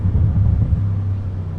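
An Audi RS6 Avant's exhaust gives a deep, low burble on a downshift, a close rumbling crackle that settles into a steady low drone.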